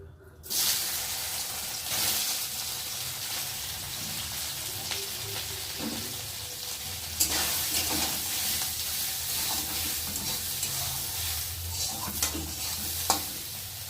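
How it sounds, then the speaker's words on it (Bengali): Soybean chunks frying in hot oil in a pan, a loud continuous sizzle and crackle with stirring scrapes and a couple of sharp clinks, starting just after a moment of quiet. "তেলটা গরম হয়ে গেছে, আর এখন আমি এই যে সয়াবিনটাকে দিয়ে ভালো করে ভেজে নেব।"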